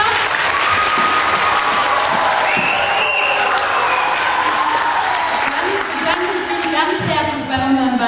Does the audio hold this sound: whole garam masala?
no